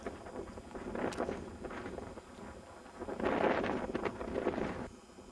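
Gusty wind roars against the microphone in Death Valley in uneven surges, swelling louder toward the end before easing off.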